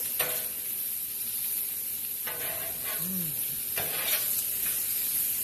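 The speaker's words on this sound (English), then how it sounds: "Push these around. Make sure everything gets coated in the beautiful bacon fat." Food sizzles steadily in hot bacon fat on a Blackstone griddle, with a continuous loud hiss broken by a few scraping pushes as the pieces are moved around.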